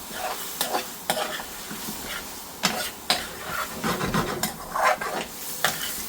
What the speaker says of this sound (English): Time to give a good stir.